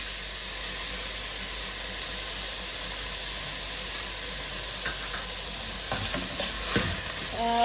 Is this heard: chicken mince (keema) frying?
yes